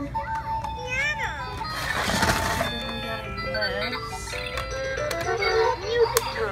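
Toy piano gift at a one-year-old's safari-themed birthday party, playing bright electronic melody notes and jingles up close, with people talking over it throughout.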